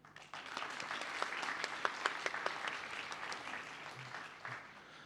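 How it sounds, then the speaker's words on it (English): Audience applause for newly presented graduates at a diploma graduation ceremony, a continuous, moderately loud patter of many hands clapping in a large hall, steady throughout without talk. "Let us give a round of applause to the graduates who have just been presented."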